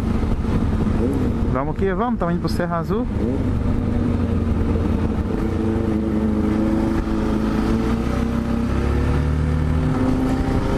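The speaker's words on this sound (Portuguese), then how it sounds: "E essas são as motos do rolê de hoje." Group of motorcycles riding on a highway, steady engine drone close by with wind noise, a voice speaking over it early on.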